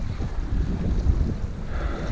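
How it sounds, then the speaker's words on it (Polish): Gusty wind and breaking waves wash along a lake shore in Iceland, a constant low rumbling roar with microphone buffeting and no voices. "fala, wiatr w moją stronę."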